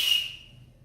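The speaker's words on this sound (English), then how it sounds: "A smaller whistle will produce the highest pitch sound." A single short, shrill blast from a small whistle, bright and piercing at first, then fading quickly to silence in under a second.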